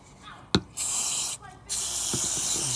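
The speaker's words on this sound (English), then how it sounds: "Give it a good spray." Cleaner is sprayed from an aerosol onto a Honda HRU 216 self-propelled lawn mower carburettor in two long, loud hissing bursts, each close and sustained for about a second, with a short pause between them.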